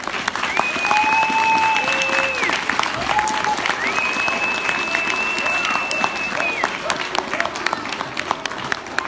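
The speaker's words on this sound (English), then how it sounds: "One more applause for our actors, Miss Henderson's class, and their wonderful, wonderful play entitled Freedom Play." Audience applause after a school assembly play by Miss Henderson's class, titled Freedom Play, a steady broad wash of clapping throughout with whistle-like tones and possible voices over it.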